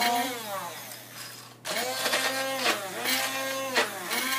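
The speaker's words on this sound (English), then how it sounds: "Looks like this, just like a little wand blender." A handheld immersion wand blender whirs through protein pancake batter in a bowl, its motor pitch swooping up and down as it is rocked back and forth, with a brief pause in the middle and no voices.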